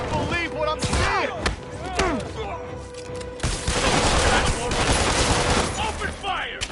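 Dense video-game gunfire in a Spiderman game, with rapid bursts and single shots crackling loudly throughout, mixed with booms, thuds and bits of game voices.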